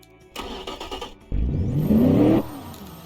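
Simulated car engine in the Automation and BeamNG games, a brief start and short revs, then a rising rev that climbs in pitch and drops off, close and fairly loud with no speech.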